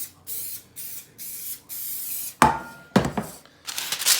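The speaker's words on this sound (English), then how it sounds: "So I just use my spray canola oil." Canola oil cooking spray hissing into a cake pan in several short, loud bursts, followed by scraping and tapping sounds as the tin is handled.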